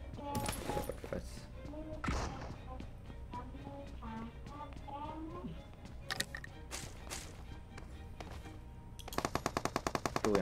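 Gunfire in the battle royale video game PUBG: dense automatic bursts and single shots throughout, with a rapid rattling volley near the end, mixed with game effects and voices talking over it.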